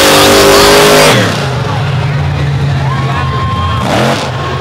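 The Sinistar monster truck's engine revs loudly at the start of a freestyle run at a Brooksville monster truck event. A roaring burst falls to a steady idle, then surges again near the end, with an announcer talking over it.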